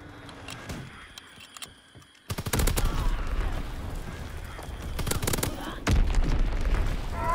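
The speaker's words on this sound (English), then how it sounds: "Dropping Fritz X bomb." Loud in-game explosions and gunfire rumble from a Fritz X bomb drop in Call of Duty WWII, quiet at first, then a heavy blast surging into sustained booming with a second impact near the end.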